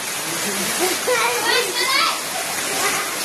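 Heavy rain with sea waves pounding the shore during a storm, a dense, roaring wash that fills the background while someone speaks loudly over it.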